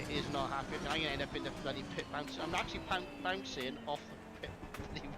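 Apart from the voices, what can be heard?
No everyday noises stand out.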